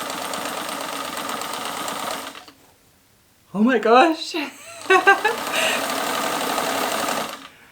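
A second-hand sewing machine hums steadily without rattling, stops briefly while a person exclaims, then runs again with a smooth, even whir.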